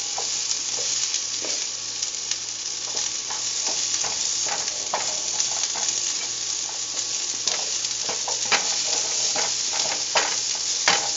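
Asparagus sautés in a hot pan under a garlic sauce, with a steady loud sizzle throughout and repeated scraping clicks of a utensil stirring it, no voices.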